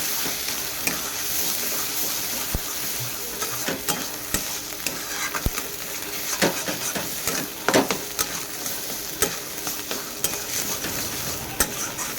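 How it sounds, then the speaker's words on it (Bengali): Ghetkul leaves frying dry in a wok, a steady close sizzle and hiss broken by irregular scraping and stirring clicks, with no talk. "এবার শুধু ভেজে নেবো যত ভাজবেন শুকনো শুকনো করে তত খেতে ভালো লাগবে"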